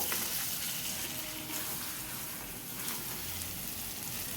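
Chicken frying in a pan, with water added, gives a faint, steady sizzle and bubbling hiss that runs throughout at low level; no speech.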